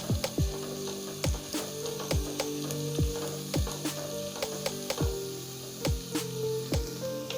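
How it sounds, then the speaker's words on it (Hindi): Ginger garlic paste fries in a karahi for chicken white karahi, a steady oily sizzle punctuated by regular sharp metallic taps and scrapes of a ladle against the pan, close and clear. "अब हम इसमें लहसुन अदरक का पेस्ट 2 चम्मच वो डालेंगे। इसको भी डालकर थोड़ा सा भूनना है।"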